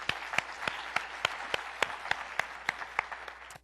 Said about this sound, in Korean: 우리 하나님께 감사의 박수 드리고